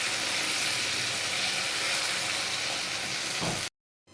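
Paneer frying in oil in a kadai, a steady close hiss and sizzle that holds evenly for several seconds before cutting off abruptly.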